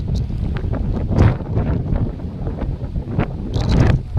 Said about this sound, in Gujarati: પવન જોરદાર આવે, વાદળા નીચે છે.